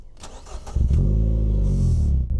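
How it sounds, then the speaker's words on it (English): A hand-built PGO Speedster sports car started with a turn of the key and a press of the start button: a short starter crank catches into a loud, steady, close-up engine idle with no talking. "You turn the key and press start."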